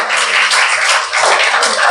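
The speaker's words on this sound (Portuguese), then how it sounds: "Agora aplauda o Senhor nesta noite." Church congregation applauding during a Portuguese-language service, dense loud clapping from many hands filling the space continuously, with a brief dip before it swells again.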